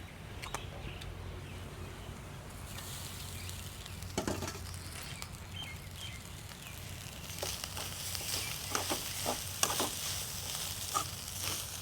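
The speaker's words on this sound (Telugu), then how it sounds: "మనం బాయిల్ చేసుకున్న బాస్మతి రైస్ 1 కప్పు. ఈ రైస్ని ఇప్పుడు దాంట్లో కలుపుకుందాం" Cooked basmati rice stirred into a hot pan with masala and coriander, giving a soft continuous sizzle with scattered scraping and clinking strokes, steady and close, no voices.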